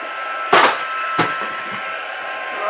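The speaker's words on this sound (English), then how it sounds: "Now I'm just going to switch you off while I use my heating tool because it's very noisy." A noisy handheld heat tool for crafting a pull-out box runs with a steady airy whine, broken by two sharp loud bursts near the start before it settles into a continuous hum.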